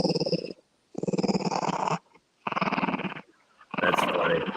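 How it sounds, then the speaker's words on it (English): A dog growls in four rhythmic, rumbling bursts separated by short silences, close and fairly loud, with a gritty, purr-like texture. "He growls like a gremlin, man"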